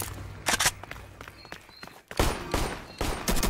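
A raygun fires in the Roblox game Flag Wars in rapid, loud bursts of game gunfire, with overlapping shots and effects filling the whole stretch and no clear talk.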